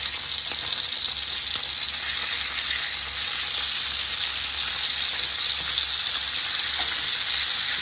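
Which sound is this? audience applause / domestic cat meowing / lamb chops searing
lamb chops searing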